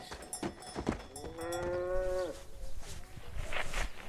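A cow gives a single long, loud moo close by, stretched over about a second, amid scattered rustling and faint background voices in a rural setting.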